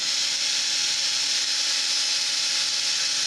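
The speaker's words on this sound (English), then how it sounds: "So this drill does 30 mile an hour." An electric drill spins at a steady high whine, loud and continuous with no pauses.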